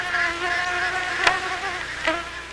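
Swarming mosquitoes whine steadily by a prairie slough, a continuous high buzzing with a couple of brief louder passes as insects fly close by.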